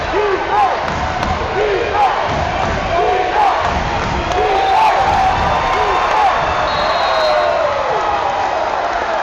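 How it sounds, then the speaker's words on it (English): A Jacksonville high school basketball crowd at a Class 1A state semifinal keeps up a loud, steady roar of many voices for about nine seconds, with scattered shouts rising above it. "By the sound of the crowd, they're up 20."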